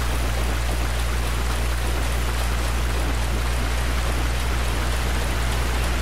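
Steady sloshing of a character wading through water in Dark Souls Remastered, a continuous watery wash with a low droning hum beneath, unbroken and even in level with no talk over it.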